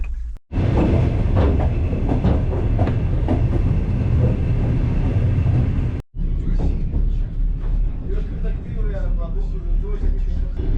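Steady loud rumble and rattling of a night train rolling on rails from Bucharest to Chișinău, continuous throughout with a brief cut partway, heard from inside the train's toilet.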